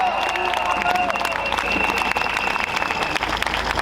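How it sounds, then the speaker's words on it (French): Applause and clapping from an outdoor crowd at a street demonstration, dense and steady for several seconds, with a tonal whistle or horn sounding above the crowd noise and voices mixed in. "On peut les applaudir."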